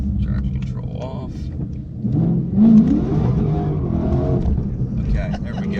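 A car engine revs hard with traction control switched off to heat up cold tires, a loud, sustained roar that swells around the middle and holds steady to the end, with a voice speaking over it.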